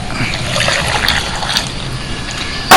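Water trickles steadily into a blender jar holding ice cubes, ginger, green chilli and pumpkin for a juice shake, a continuous close pour that ends in a short louder burst.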